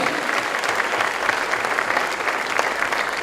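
A church congregation claps for the Holy Spirit, a thick, continuous wash of applause from many hands filling the room for a few seconds, with no break.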